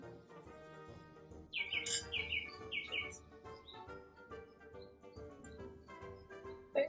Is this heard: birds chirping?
yes